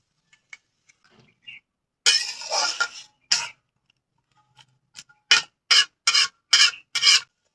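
A vegetable curry of malabar spinach stalks with green chili, salt and turmeric stirred in a kadai, heard as close scraping strokes, one long rub followed by a rhythmic run of short, quick scrapes with quiet gaps.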